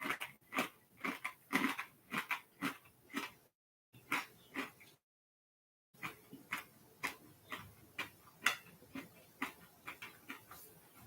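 Crunchy snack mix of peanuts and sesame sticks being chewed up close, a steady run of loud crisp crunches repeating about twice a second with a brief silent gap partway through.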